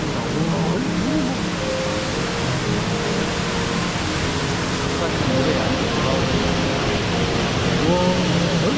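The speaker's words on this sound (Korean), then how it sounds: "육단 폭포를 근접해서 찍었습니다" A steady, loud rush of falling water at Yukdam Falls in Seoraksan, in rain, fills the whole stretch without letup, broad and hissing like a nearby cascade.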